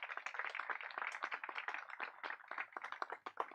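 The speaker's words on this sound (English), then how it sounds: "Can we give him another round of applause" Audience applause at a groundbreaking ceremony in Scottsdale, a steady patter of many hands clapping at moderate distance, fairly quiet and continuous with no talk over it.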